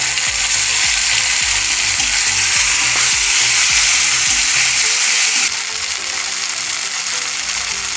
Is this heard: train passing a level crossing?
no